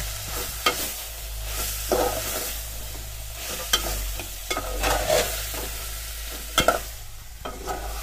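Boiled taro being stir-fried in a pan, with repeated scraping stirs of a spatula over a soft, steady sizzle, close and distinct with no talking.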